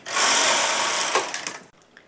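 A knitting machine carriage sweeps across the needle bed knitting a sample, a loud continuous whirring rattle that runs steadily before breaking into a few clicks and stopping abruptly near the end.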